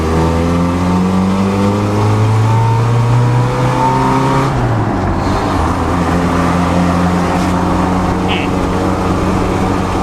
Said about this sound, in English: It's moving. 4 cylinders. It's really loud now.